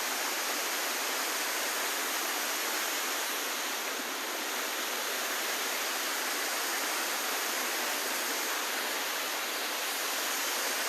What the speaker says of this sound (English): This is a waterfall I didn't get to see last time because I was too tired to take the trail up to it.